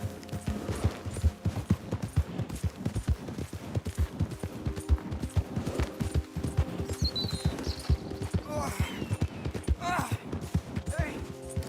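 Horse hooves clip-clop at a steady gallop in the Red Dead Redemption 2 video game, a dense rapid rhythm running throughout, with brief gunfire-like cracks and a faint whinny mixed in.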